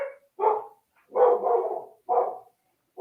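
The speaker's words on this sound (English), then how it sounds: "is that your dog who's excited about the Muscadet?" A dog barks in a handful of short bursts, with gaps between them, heard fairly close and clear against an otherwise quiet room.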